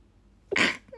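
A single short sneeze, close and fairly loud, bursting out after a quiet moment in an indoor livestream.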